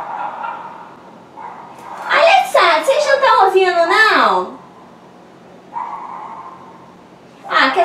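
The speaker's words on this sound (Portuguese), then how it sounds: "Para de latir um pouco, cachorrada!" Several dogs bark and yip in a rapid burst, near and loud, while someone talks before and after.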